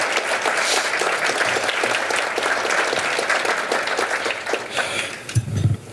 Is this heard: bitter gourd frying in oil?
no